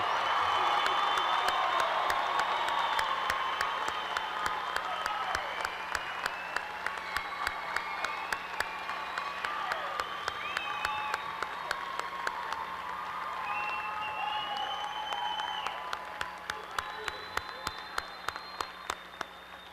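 A large commencement audience applauds the May 2017 baccalaureate graduates of West Texas A&M University, steady massed clapping with occasional cheers and whoops, slowly thinning toward the end.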